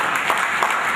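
Audience applause at a distinguished lecture of the Nigerian Institute of Quantity Surveyors, a steady wash of clapping from a crowd filling the whole second.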